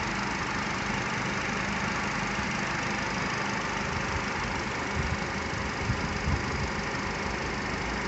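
A Nissan Qashqai Acenta 1.6 16v engine idles steadily, a continuous even rumble held close and unchanging throughout, with no talking.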